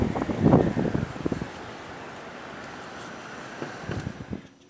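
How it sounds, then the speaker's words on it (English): Blustery wind on a cold New York City night during a snowstorm, roaring as steady broadband noise with louder gusts near the start and again toward the end. "It's cold and windy."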